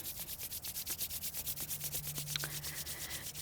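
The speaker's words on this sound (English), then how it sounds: "Rub your hands." Palms rub together in quick, rhythmic back-and-forth strokes, a soft, close, dry swishing repeated steadily during a quiet yoga session.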